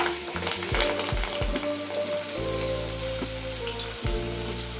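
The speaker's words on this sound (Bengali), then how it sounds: "এরপর আমরা এদিকে ছাঁকা তেলের মধ্যে ভেজে নেব।" Bunches of coriander leaves dipped in batter fry in a pan of hot oil, giving a steady close sizzle with some bubbling pops that swells when more fritters go in.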